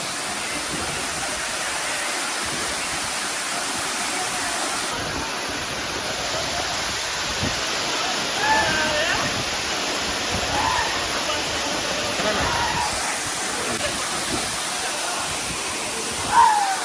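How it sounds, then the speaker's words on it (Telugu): Constant roaring hiss of a waterfall near Mancherial, close and even, holding steady throughout with only faint bumps of handling noise. "చూస్తున్నారు కదా ఇదే వాటర్ ఫాల్స్."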